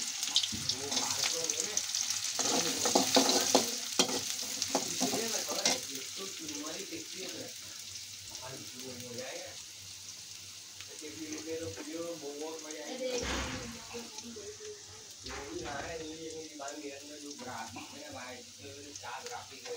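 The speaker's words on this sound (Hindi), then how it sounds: "ये प्याज को अपना भून लेंगे।" Onions frying in a pan for an egg curry, a steady sizzle with occasional stirring and a brief tap-water splash, while a voice speaks over much of it.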